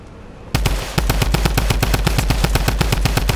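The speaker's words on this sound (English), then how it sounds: "Wait, I'm gonna try to shoot them." Rapid automatic gunfire in a 50v50 shooter video game, a loud, steady stream of evenly spaced shots that cuts in sharply after a brief quieter moment and keeps firing without pause.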